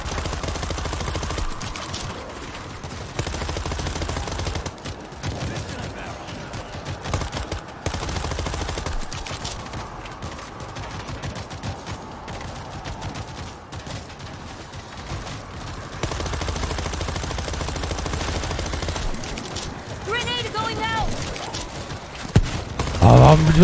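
Rapid gunfire and bursts of shooting in the zombie shooter game World War Z, repeated through the clip at moderate loudness under someone talking over the action.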